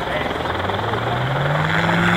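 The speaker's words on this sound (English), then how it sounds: "This is an auto gyro. It's a rotorcraft." An autogyro rotorcraft at a rotorcraft fly-in drones steadily with a loud engine and rotor hum whose pitch slowly rises, while someone talks over it.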